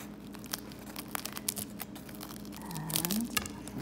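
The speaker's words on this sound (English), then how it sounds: "So I'm gonna cut this right in half." A chef knife slices through a layered Egyptian feteer meshaltet pastry, giving quiet crackly crunching and tearing of flaky dough with scattered crisp snaps, faint and close, with no talk.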